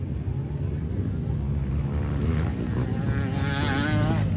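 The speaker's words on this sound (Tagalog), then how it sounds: "Hala, medyo nagpurot-purot ng motor." A racing motorcycle engine drones loud and close, rumbling with an uneven, wavering note that rises toward the end as it sputters during a race.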